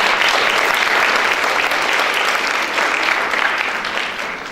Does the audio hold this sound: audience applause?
yes